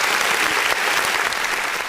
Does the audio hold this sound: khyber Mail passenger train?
no